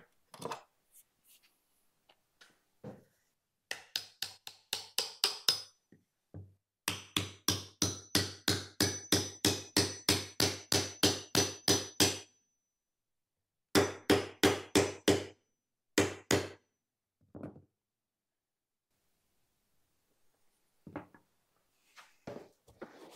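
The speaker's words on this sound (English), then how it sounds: "Trusty hammer." A hammer strikes repeatedly in fast, even bursts of a dozen or more blows, with pauses between runs and a few scattered single taps, close and clear in a quiet workshop.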